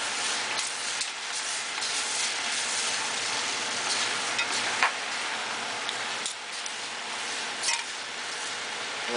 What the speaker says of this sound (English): once you add the scallions, mix it up.